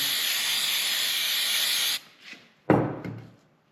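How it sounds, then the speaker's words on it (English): Brake cleaner hisses from an aerosol can in a steady, loud spray over the oil filter area of a 2019 KTM 450 SX-F Factory Edition motorcycle, then cuts off, followed by brief clunks and a short bump. "Spray this off with some brake clean."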